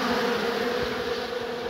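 A loud, steady buzzing drone of many honeybees and drones close by, a dense continuous hum that doesn't let up.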